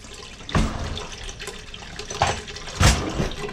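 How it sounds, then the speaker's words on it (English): Filtered tap water splashing into a pot, an uneven running gush with a few louder surges, close by and alone. "Now next thing you want to do is you want to put some water in your pot."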